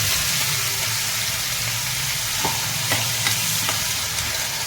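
Chopped onion and chili powder frying in hot tempering oil for an ivy gourd curry, a steady close sizzle with a few stirring scrapes and clicks, no talk.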